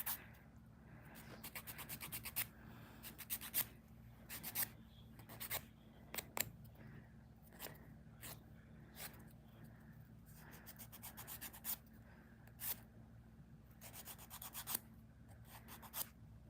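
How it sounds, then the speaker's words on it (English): Dip powder nails are filed, bursts of short raspy strokes close to the mic, quiet and irregular with brief pauses between passes. "I know, it looks like I'm filing off a lot."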